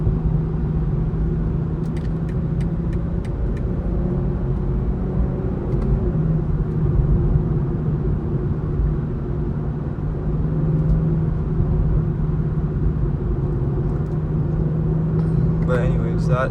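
A 2020 BMW M340's engine pulls steadily while driving, holding a constant, loud low drone with a faint tonal hum and road rumble throughout.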